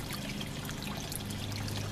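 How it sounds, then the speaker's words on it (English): Water trickles and splashes from a garden fountain in a yard, a soft, continuous stream heard alone at a distance. "there's a nice water fountain over there. Water's coming out all of them."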